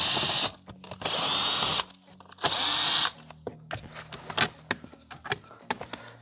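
Cordless power tool unscrewing T20 screws from a car interior panel: two sustained loud whirring runs, then a series of sharp clicks and taps close by.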